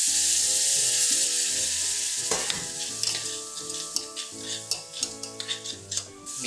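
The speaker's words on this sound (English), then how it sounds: "And now I'll add the fish stock inside here." Fish stock pours into a roux in a pan, and a loud hissing rush gives way to steady bubbling and sizzling. Sharp utensil clicks follow as the mixture is stirred.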